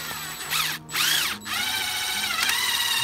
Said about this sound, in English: I'm going to angle my drill up.